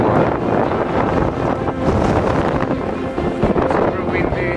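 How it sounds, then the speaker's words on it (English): Strong wind buffeting the microphone near the Fagradalsfjall volcano lava field in Iceland, a continuous loud roaring rumble with gusty surges throughout. "Super windy, but it's worth it."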